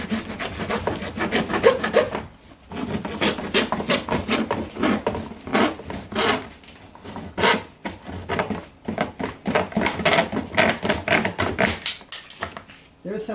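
Hand-sawing material for a custom splitter lip on a Jetta MK4, rhythmic rasping strokes in bursts with brief pauses, close and fairly loud.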